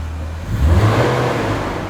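A motorbike engine revs briefly and loudly close by, a short throaty roar that rises and holds.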